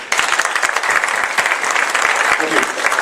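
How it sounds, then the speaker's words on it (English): A big round of audience applause at a magic show, dense and sustained close clapping from a crowd that continues evenly across the moment. "Big round of applause for him."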